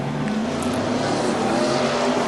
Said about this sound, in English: Carl Edwards spins it around, exiting pit road, and does a 360